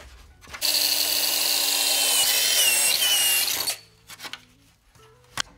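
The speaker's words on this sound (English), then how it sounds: "All right, now all the holes are drilled." A power drill bores bolt holes through a Ford Super Duty grille bracket, a loud whining burst lasting about three seconds, followed by short scrapes and clicks as the bit is withdrawn.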